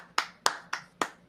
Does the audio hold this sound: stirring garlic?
no